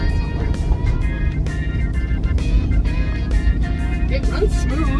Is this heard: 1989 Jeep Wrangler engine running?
yes